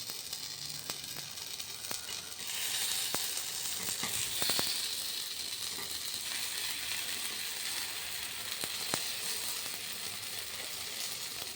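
Paniyaram batter sizzles and fries steadily in a pan, a continuous crackling hiss with a few sharp clicks and taps throughout, rising slightly after the first couple of seconds.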